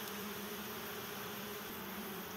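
Honeybees buzz steadily around an opened hive, a dense, continuous drone close by with no talk over it.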